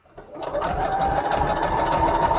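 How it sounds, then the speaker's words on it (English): A home sewing machine with a needle that won't catch the bobbin starts up and runs with a steady mechanical whir and rapid stitching rattle, close and loud, building up in the first half second. "I'm gonna have to get a new sewing machine."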